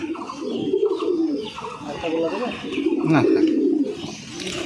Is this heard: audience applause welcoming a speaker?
no